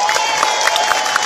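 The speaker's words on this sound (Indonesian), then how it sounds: "Tepuk tangan buat warga Tasik." A large audience at a religious gathering in Tasikmalaya claps and cheers together in a dense, loud, continuous wash of applause with scattered shouts.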